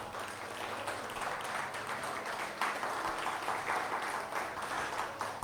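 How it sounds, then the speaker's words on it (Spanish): A church congregation claps hands together during a worship service: steady, dense applause from many people, fairly soft and distant, continuing evenly throughout with no talk over it. "Dele palmas al Señor."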